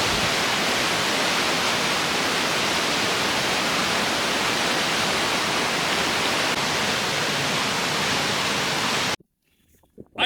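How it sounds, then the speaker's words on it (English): Thunder Creek Falls in New Zealand's Mount Aspiring National Park, a loud, steady, broadband rush of falling water filling most of the clip before cutting off abruptly near the end. "It's time to go see some more waterfalls."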